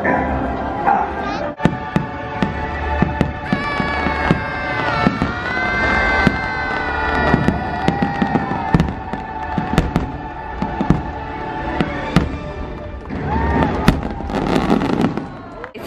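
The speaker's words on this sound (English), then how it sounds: "So we saw the fireworks happily ever after" The Magic Kingdom fireworks show at Disney World fills the air with repeated booming bursts and crackles over swelling show music, with a large crowd murmuring and a dog barking nearby.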